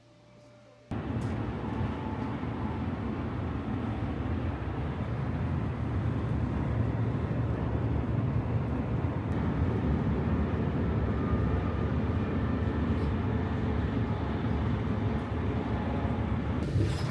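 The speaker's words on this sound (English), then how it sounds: "the train is kind of noisy in this area." Steady loud rumble and rushing roar inside a first-class German train cabin on the Frankfurt to Paris route, a constant dense rolling noise that kicks in abruptly after a quiet first second and continues unbroken.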